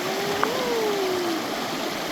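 A river flows steadily past, a broad continuous rushing wash of water heard close and even throughout, with a brief whistle-like tone early on and no talk.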